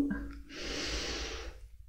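Slow, steady breath drawn in during a standing yoga pose, a soft airy rush lasting over a second before fading, close and fairly quiet with no talking.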